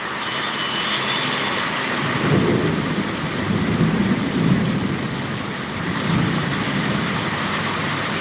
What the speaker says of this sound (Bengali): প্রায় দীর্ঘ এক ঘন্টা যাবৎ বৃষ্টি হচ্ছে